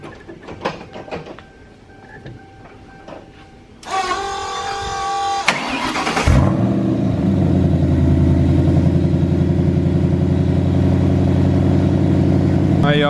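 A turbocharged Crown Victoria engine fires up after voices and mechanical clatter, then holds a loud, steady, droning rev close by.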